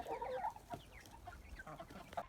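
Chickens cluck and chatter softly nearby, a steady run of short murmuring clucks with no talking.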